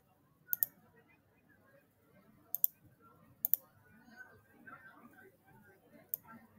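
Computer mouse clicking while working in a spreadsheet: sharp, close double clicks in four separated bursts over quiet, faint speech.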